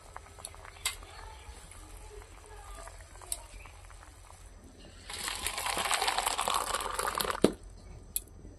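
Garam masala and meat masala stirred into a fried chhyaka of dried fish and mustard greens in a home pan: light spoon scrapes and clinks, then a stretch of steady frying sizzle as the mix is turned, with a sharp knock near the end.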